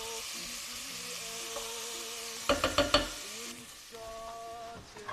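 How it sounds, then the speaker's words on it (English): Onions sweat in olive oil in a pot for a Maltese fish soup, a soft low sizzle broken by a quick run of four knocks from a utensil, with faint tonal hums drifting in and out. "So some olive oil. We start with the onions."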